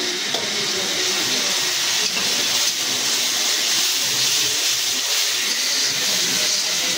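Chili paste added to a pan with fried onions sizzles and hisses loudly and continuously, a close, dense frying crackle with steady steam.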